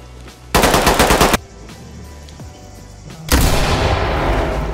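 Automatic gunfire bursts from a SWAT simulator video game: a loud rapid volley, a quieter pause, then a second sustained barrage of shots near the end.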